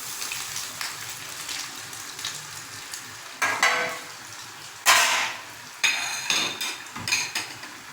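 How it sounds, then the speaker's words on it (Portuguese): Coxinhas, Brazilian croquettes, deep-frying in hot oil: a steady soft sizzle and crackle runs throughout, broken by several sharp clattering knocks, likely utensils on the pan, with no talking. "fritar, até ficar bem douradinha"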